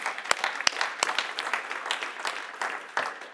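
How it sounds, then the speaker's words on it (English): Scattered applause from an audience at a panel discussion on EU liberal democracy, sparse individual claps standing out over a low, uneven patter without any talk. "And that's an applause, exactly."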